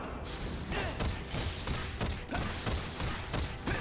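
Repeated heavy thuds and crunchy metallic impacts from punching a turret in a video game, a steady run of loud blows over a dense background of game effects.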